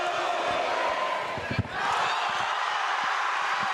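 Broad, sustained crowd roar at an NCAA Division III volleyball match between Hope and Calvin, loud and constant with a thump partway through and commentary speech beneath.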